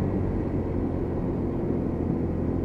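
A Lexmoto Titan motorcycle engine running at steady throttle on a ride, a continuous low rumbling drone with even, unchanging loudness and no speech.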